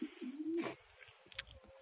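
A single coo from an ailing pigeon, a soft low rising call, close by, followed by faint rustling and light clicks.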